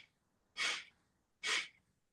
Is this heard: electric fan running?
no